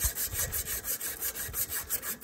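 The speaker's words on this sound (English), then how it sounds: "Use some regular emery cloth, clean it up a little bit." Emery cloth rubbed back and forth over a Woodmizer sawmill shaft to remove burrs, a quick rhythmic scratchy rasping with about ten short strokes, close and fairly quiet with no talk.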